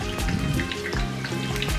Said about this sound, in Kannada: ಇದನ್ನು ಈ ರೀತಿಯೇ ಫ್ರೈ ಮಾಡ್ಕೊಳ್ಳೋಣ. ಇದು ಗೋಲ್ಡನ್ ಬ್ರೌನ್ ಬರೋವರೆಗೂ ಚೆನ್ನಾಗಿ ಫ್ರೈ ಮಾಡ್ಕೋಬೇಕು.